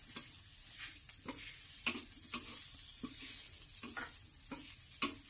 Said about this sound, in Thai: คั่วไฟอ่อน